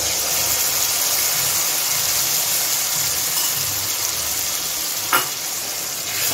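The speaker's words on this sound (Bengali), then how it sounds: "এখন আমি বানিয়ে রাখা পেস্টটা দিয়ে দিচ্ছি।" Ground masala paste fries and is stirred into already-fried onions in a pan for a pointed gourd and prawn curry, giving a steady, close sizzle with one brief clatter near the end.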